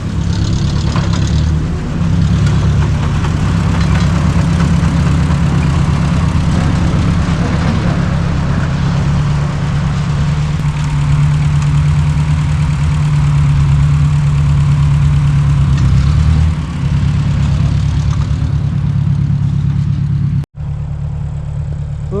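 A Ford 641 Workmaster tractor with a 6-volt system idles steadily while warming up on a freezing snowy day, its loud, even low engine rumble running unbroken before a brief cut near the end.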